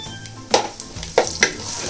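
Chopped garlic cloves and dried red chillies sizzle in hot oil, a steady crackling fry broken by a few sharp stirring scrapes, close and loud, with no talking.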